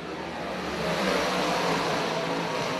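Short track race cars at All-Tech Raceway roar back to speed on a restart, a loud, steady blended engine drone filling the air with no voices over it.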